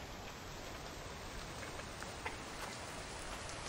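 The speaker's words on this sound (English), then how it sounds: "Now we've got rain." Steady rain pours in The Infected survival game, a dense, even hiss of falling drops that holds at one level throughout with no voices.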